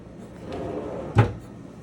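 A low sliding rumble ends in a single soft thump as a large pots-and-pans drawer below the stovetop is pushed shut nearby in the kitchen of a 2022 East to West Ahara 365RL fifth wheel.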